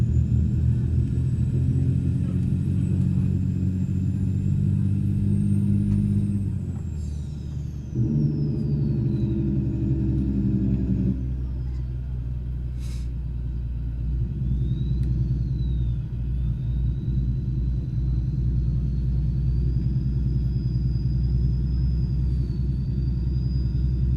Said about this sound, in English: Let's open the window, see what this engine sounds like.